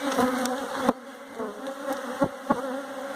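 Worker honey bees buzzing close by at a beehive entrance, a steady droning hum with several sharp louder passes as individual bees fly near the microphone.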